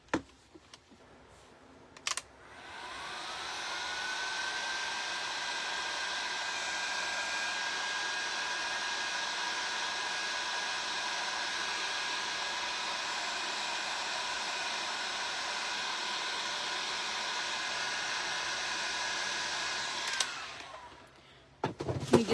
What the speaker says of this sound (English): Let me get my dryer